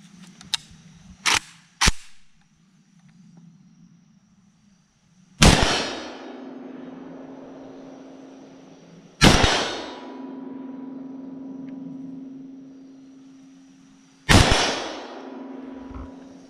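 Three sharp, loud rifle shots from an AK-47 fitted with a Strela four-piece Gen 2 flash suppressor ring out several seconds apart outdoors, each followed by a lingering echo, with faint handling clicks before the first shot.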